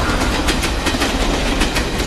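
A running train rumbles loud and close, with a rapid, rhythmic clickety-clack of wheels over rail joints throughout.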